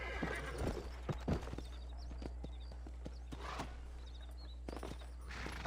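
A horse in the Red Dead Redemption video game whinnies softly a few times while scattered hoof clops sound nearby, all at a fairly low level.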